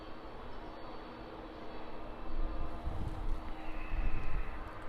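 A passenger aircraft taxis in at Birmingham Airport, producing a steady, fairly distant engine rumble and whine that swells slightly louder toward the end, with no voices.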